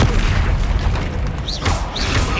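A dueling spell goes off in Hogwarts Legacy with a dense, booming magical blast and a couple of bright whooshing accents, loud and continuous throughout the combat mix.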